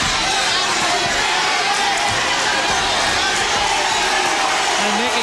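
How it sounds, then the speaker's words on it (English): A large boxing arena crowd keeps up a steady, dense roar of booing and murmuring, loud and unbroken throughout. "Crowd's booing"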